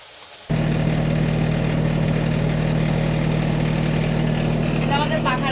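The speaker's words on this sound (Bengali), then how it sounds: "এটা আমাদের পাখার আওয়াজ হচ্ছে" An electric ceiling fan runs steadily in a tin-roofed room where fish is being cooked, a constant low hum and whir that starts abruptly and carries on loud and unbroken, with talk over it.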